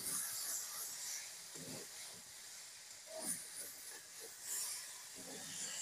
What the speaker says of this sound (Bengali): সবজিগুলো বেশ ভাজা ভাজা হয়ে গেছে।